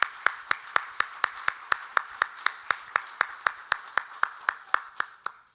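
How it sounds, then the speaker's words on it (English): Audience applause at a Korean War anniversary forum: steady rhythmic clapping from a crowd, about twenty evenly spaced, fairly close claps over several seconds with no voices over it. "let's go ahead and give another round of applause to Dr. Bruce Bennett and Mr. Zim Zorbel."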